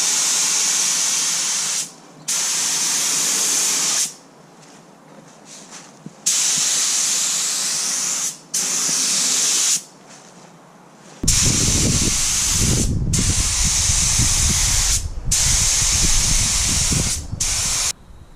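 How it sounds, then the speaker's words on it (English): A paint spray gun at 30 psi with a full mixture and a mostly open fan lays the first coat of bottom paint on a Cape Dory sailboat hull. Loud hissing bursts start and stop at irregular intervals, and a low rumble joins the later spraying. "first coat of paint, got 30 pounds of pressure, full mixture, and mostly open fan"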